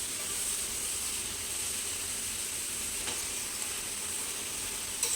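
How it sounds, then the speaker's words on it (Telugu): Bottle gourd pieces sizzle steadily with salt and green chili paste in a hot pan as they are stirred, a continuous close frying hiss with a faint scrape near the end. "వీటిని ఒకసారి కలుపుకుందాం."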